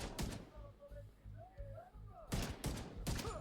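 Rifle gunfire in The Division 2 video game, with rapid rounds in several quick bursts, the loudest near the start and end, under a low game ambience.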